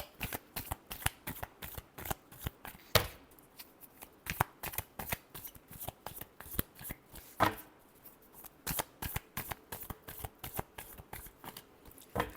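Tarot cards are shuffled over and over at close range in a rapid, steady run of crisp riffling flutters and slaps with no talk.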